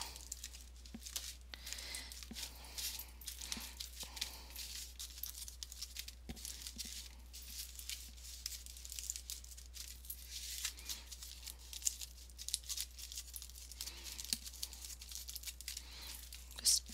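Foil being cut and crinkled while making a mixed-media canvas piece, heard as faint, continuous papery crackling and snipping over low background hum.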